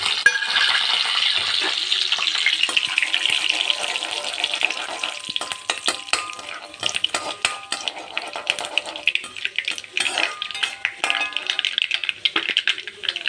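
Mustard seeds, cumin and fenugreek crackle and sputter in hot oil, a dense close sizzle with sharp pops and spoon clicks, fading slightly midway before busy popping returns.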